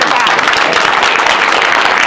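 At a borough council meeting, a room applauds kids who reached the state championships. The clapping is loud, close and dense, and it holds steady for the whole short stretch.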